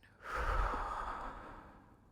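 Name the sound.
deep breath in, longer breath out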